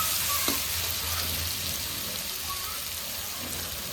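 Onions and tomatoes fry in a pan for baingan bharta, a steady close sizzle and crackle running throughout with no talking.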